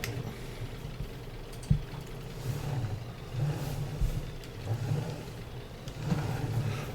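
Tractor engine in Farming Simulator 19 on a farm field, a steady mid-low rumble that swells and eases as the machine turns around, with a brief knock partway through; no talking.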